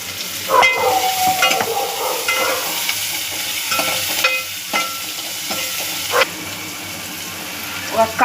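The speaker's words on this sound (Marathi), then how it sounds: "गरम झालेला आहे त्याच्यामध्ये मी कांदा टाकून देते" Onion frying in hot oil in a pan for mutton curry gives a steady, close sizzle. Intermittent stirring scrapes and clinks sound over it, with no talking.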